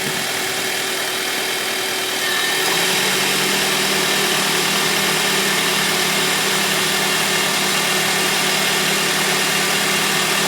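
A 7th generation Honda Civic engine idles steadily up close, and partway through a new hum joins the drone as the AC compressor kicks on, continuing alone without speech.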